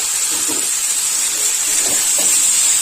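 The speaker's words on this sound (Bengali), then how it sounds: "কেটে রাখা বরবটি আলু কুমড়ো দিয়ে দেব" Cut yardlong beans, potato and pumpkin dropped into hot oil and fried spices for a village-style Bengali chorchori, giving a steady, loud broadband sizzle and hiss throughout with a few faint stirring scrapes.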